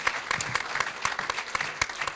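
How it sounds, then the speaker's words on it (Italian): Applause for a prize winner at a photography contest award ceremony, a steady patter of many hands clapping in a room, moderately loud and continuous throughout. "un applauso a Jessica"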